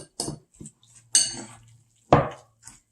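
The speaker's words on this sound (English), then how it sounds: "like that until it's well mixed and well chopped and mashed" Canned salmon being mashed and mixed with a utensil in a bowl, giving three distinct scraping, clinking bursts with quieter stirring between them, close up and with no talking.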